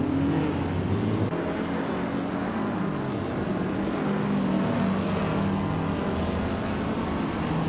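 A 1952 Kuzma Offie race car engine in a racing video game drones steadily and loudly throughout, a continuous low mechanical hum with slight shifts in pitch as the car runs.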